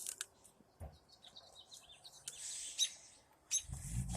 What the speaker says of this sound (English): They're little tiny birds.